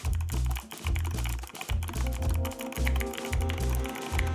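Rapid mechanical keyboard typing, close and steady, with deep thocky keystrokes clattering in quick succession and no voices.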